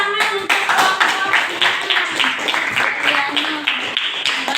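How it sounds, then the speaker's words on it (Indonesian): A classroom of students claps for a student group, brisk rhythmic clapping from many hands close by, loud and continuous across the whole stretch with some voices mixed in. "Tepuk tangan untuk kelompok"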